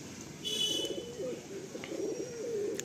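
Kalanka pigeons cooing in a loft, soft low repeated coos over steady background hiss, with a few faint higher chirps.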